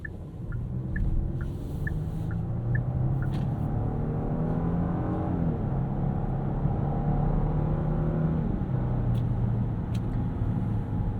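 A 2025 Genesis GV80's V6 hums as a low, muffled drone behind heavy sound deadening, rising and falling gently in a quiet cabin with no talking.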